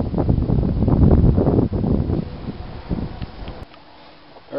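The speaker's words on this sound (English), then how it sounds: "And this is why it's so windy." Wind blowing across open fields near a hen house, loud gusty rumble buffeting the microphone, then dropping abruptly to a quieter hiss before rising again.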